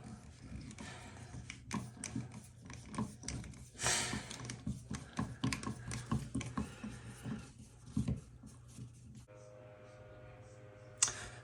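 A Phillips screwdriver works a screw loose from inside the hole of a Moen tub/shower valve, giving close, irregular clicks, scrapes and ratchet-like ticks with light handling noise over a low hum.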